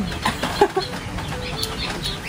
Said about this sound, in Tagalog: maraming sisiw dito sa aming ilalim